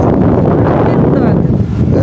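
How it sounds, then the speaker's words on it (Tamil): Strong wind blows at a beach in light rain, a steady loud roar buffeting the microphone for the whole stretch, close and unbroken. "இந்த கடற்கரை கிட்ட நிற்க ஒரு காற்று ஒன்று அடிக்க"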